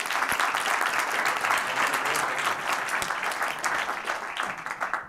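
An audience at a pitch competition event claps steadily for several seconds, a dense, even wash of applause with no talk over it.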